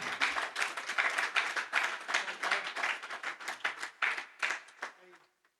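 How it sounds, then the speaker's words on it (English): A seated audience at a book release function claps for the author P.K. Sharma, a dense, lively patter of hands that holds steady for several seconds before thinning to a few last claps and silence. "He really deserves a real good, resounding clap."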